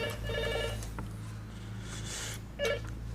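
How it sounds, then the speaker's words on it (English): A telephone rings twice indoors in a home, two short electronic trills separated by a pause, moderately loud over a low background hum. "Jono's jumpy every time the phone rings"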